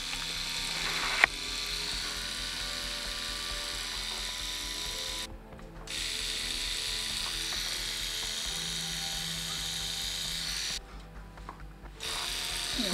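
A Vlad Blad Seawolf hybrid rotary tattoo machine running off a simple power supply gives a steady, close mechanical whirring buzz that drops out briefly twice before starting again, with no talking.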